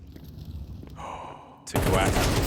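Counter-Strike gunfire from a Desert Eagle, USP and AK during a 3-on-3 round, quiet scattered game sounds breaking into a sudden loud burst of rapid shots near the end.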